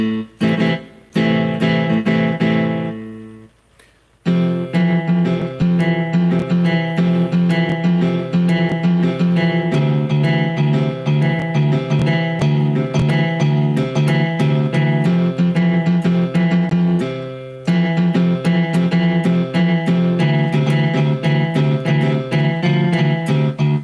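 Electric and acoustic guitars played together, loud and continuous with a blended, shimmering tone, broken by short pauses near four and seventeen seconds.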